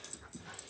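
A miniature schnauzer dog lets out soft, brief whimpers and yips indoors, faint and close, in a short burst with no talking.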